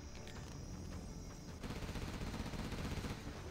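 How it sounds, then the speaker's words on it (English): Artillery fire in the real-time strategy game Command & Conquer Generals: Zero Hour, a dense rumbling barrage of overlapping blasts under game music, swelling louder halfway through. "Artillery firing off, going to be targeting the airfield once again."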